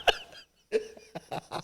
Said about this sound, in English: Ooh, got me coughing now.